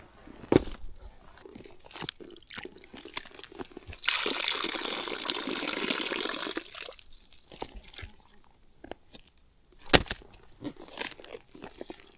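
Water is poured out of fishing tackle boxes, with a splashing gush in the middle, scattered drips and plastic clicks and rattles around it, close by and without speech.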